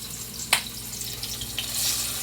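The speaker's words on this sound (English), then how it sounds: "I'll show you the method to do the deep fry as well" Shrimp deep-frying in hot oil give off a soft, steady sizzle, with a couple of brief crackling pops standing out from the quiet bubbling.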